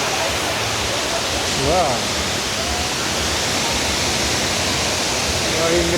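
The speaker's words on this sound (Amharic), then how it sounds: "ያለው ፏፏቴ እየወረደ ነው ያለው።" The waterfall on the Kebena river in Addis Ababa pours down in a dense, steady rush close by, unbroken throughout, with one short exclaiming voice breaking in briefly.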